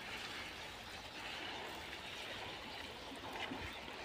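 Water sprays steadily like rain over vegetable plants in a morning garden, a soft continuous hiss that stays quiet and even throughout, with no voices.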